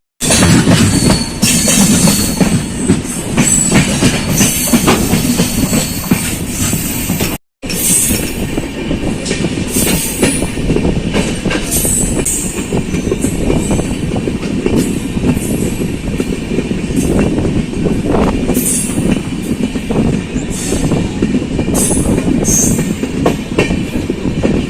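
A passenger train running from Tinsukia toward Lakhimpur in Assam, loud and continuous carriage rumble with rhythmic clickety-clack of wheels over rail joints and occasional squealing, heard from inside the coach with one brief dropout.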